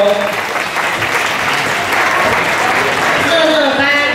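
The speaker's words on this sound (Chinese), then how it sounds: "我们用掌声恭喜爱班的孩子" A crowd applauds steadily and loudly at a kindergarten graduation ceremony for the children, sustained clapping throughout, with voices and faint music rising beneath toward the end.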